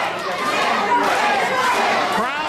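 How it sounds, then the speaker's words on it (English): A wrestling crowd chants a wrestler's name, Nic, during a Joey Janela vs. Nic Vinewood match, a steady, dense wash of many voices filling the room at even loudness throughout. "Crowd chanting Nic."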